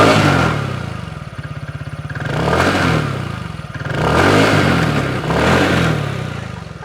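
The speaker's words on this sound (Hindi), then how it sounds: "तो आवाज़ इस स्कूटर की थोड़ी सी अच्छी लगी मुझे" An air-cooled TVS Ntorq 150 scooter engine idles close by and is blipped repeatedly, each rev rising and falling in a rhythmic series of swells with a buzzy, rattly exhaust note.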